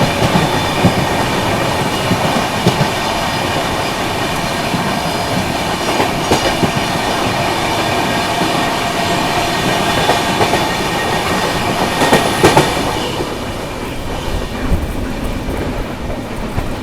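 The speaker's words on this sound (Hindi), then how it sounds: "अमृत भारत वंदे भारत एक साथ क्रॉसिंग।" Amrit Bharat and Vande Bharat trains crossing each other on Indian Railways, heard as a loud, continuous rumble of rolling wagons with clickety-clack wheel beats and a brief metallic squeal near the end before the noise eases.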